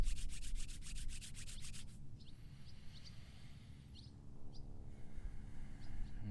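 Hands rubbing together in a quiet room, a fast, even swishing for the first two seconds that then fades to a soft, low hiss, with faint chirps of birds outside.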